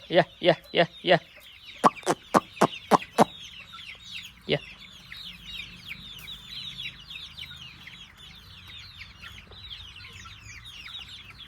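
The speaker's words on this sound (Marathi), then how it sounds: "बाकी कोंबड्या आहेत बघा सगळा" A farmyard flock of hens with a single rooster: a burst of loud, evenly spaced clucks at the start, then softer, busier clucking and chatter from the birds continuing in the background.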